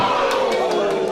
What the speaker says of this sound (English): Very split crowd for this match. Certainly people who are cheering on both.